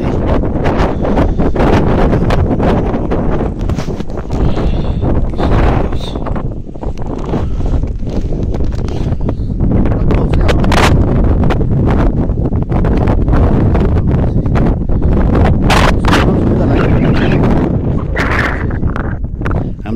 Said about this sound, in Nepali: हेर्नुहोस् है हावा